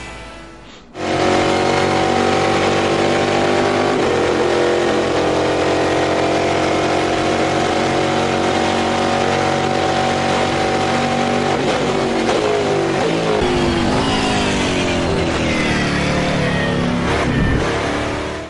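A race car engine revs hard through a lap in a driving simulator, a loud, continuous high-pitched drone that climbs and drops with gear shifts and braking into corners, with no talking.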